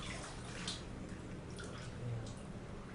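A toddler rinses clothes in a bucket of water, soft sloshing and dripping splashes at close range with a quiet indoor hiss and no talk.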